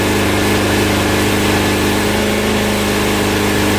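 A loud, steady 1999 Suzuki Hayabusa motorcycle engine idle with an even low throbbing rhythm and a constant mechanical hum, close by and without talk.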